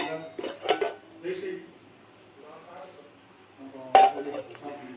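Small metal cooking pots and dishes clink and clatter sporadically near the microphone, with a sharp clang near the end, while someone talks in Tamil.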